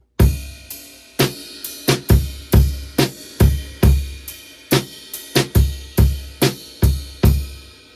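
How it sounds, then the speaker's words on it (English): A close, loud drum groove with a steady eighth-note pulse on a ride cymbal over kick and snare hits, played alone. "he switches over to the ride and changes the groove a little bit"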